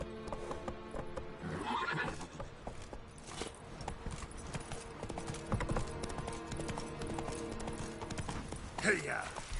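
Horse hooves clip-clop at a gallop in The Witcher 3 video game, with whinnies and neighs, game ambience and a rider's voice over the steady hoofbeats.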